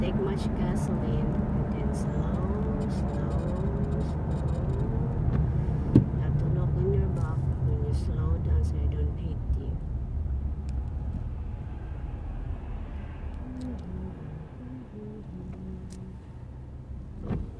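A Ford Explorer Sport Trac coasting on a rainy road at about 35 mph, a steady low road and engine rumble inside the cabin with faint tonal whine, fading slightly toward the end while someone talks over it.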